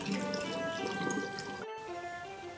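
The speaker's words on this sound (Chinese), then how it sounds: "倒出水分" Water runs and splashes steadily as it is poured off rinsed dried shiitake mushrooms in a kitchen, a close, continuous trickling wash with faint tonal ringing, briefly cut off before resuming.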